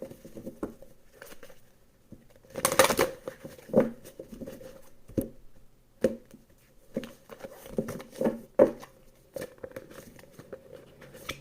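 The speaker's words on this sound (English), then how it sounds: "One more shuffle." Tarot cards being shuffled by hand during an Aquarius reading, with irregular bursts of soft riffling and patting snaps, one louder flurry near the start, close and alone without talk.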